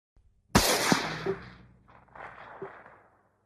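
A single loud, sharp gunshot crack followed by a decaying echo and a few fainter rattles.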